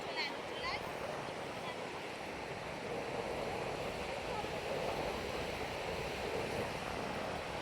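Sea waves break and wash along the beach at Bakkhali in the evening, a continuous rushing roar with wind, fairly soft and unbroken.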